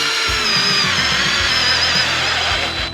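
A cordless drill in drill mode, speed 2, whines loudly and steadily as it drives a 3.5 inch deck screw into wood, its pitch dropping slightly before it stops.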